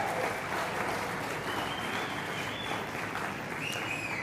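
Crowd applause at a launch event, a steady, moderately distant roll of many hands clapping that holds evenly throughout, with no speech over it.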